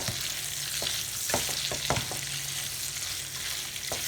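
Smoked sausage browning in a pan with a continuous soft sizzle and crackle. Several spatula taps and scrapes come as the pieces are turned.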